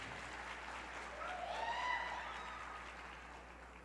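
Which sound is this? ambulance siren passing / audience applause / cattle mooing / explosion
audience applause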